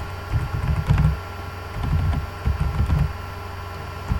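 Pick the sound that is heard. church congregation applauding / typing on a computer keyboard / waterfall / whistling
typing on a computer keyboard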